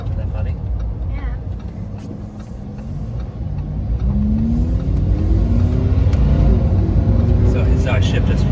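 A Lamborghini engine rumbles low and steady, swelling slightly as it idles and revs inside the car. A person talks over the constant drone.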